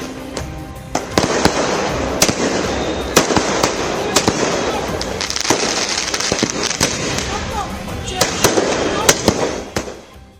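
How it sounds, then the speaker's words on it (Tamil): Supporters outside Eknath Shinde's house in Mumbai set off firecrackers to celebrate a Maharashtra election win: a loud, dense, crackling barrage of rapid bursts and sharp pops that goes on throughout, with crowd voices mixed in. "மும்பையில் ஏக்நாத் ஷிண்டே வீடு முன்பு கூடிய தொண்டர்கள் பட்டாசு வெடித்து தங்கள் மகிழ்ச்சியை வெளிப்படுத்தினர்"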